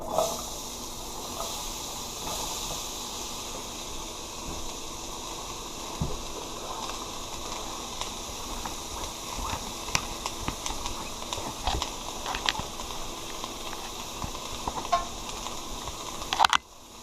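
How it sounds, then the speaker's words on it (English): Chopped onions sizzle steadily in butter in a pan while cooking cowboy pasta, a continuous soft frying hiss with scattered pops and a few clinks of a utensil near the end. "And then you're going to throw in your chopped onions."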